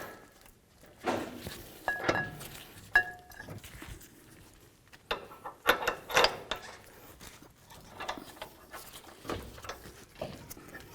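Bolts are threaded by hand into a Toyota Tundra front CV axle assembly, with quiet scattered metallic clicks, clinks and taps separated by short pauses, faint and close.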